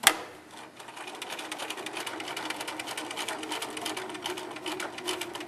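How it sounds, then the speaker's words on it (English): A sewing machine stitches a seam on a ski hat, a close, fairly quiet, fast regular needle clatter running steadily after a brief knock at the start. "we're going to sew around this really carefully so the needle doesn't break"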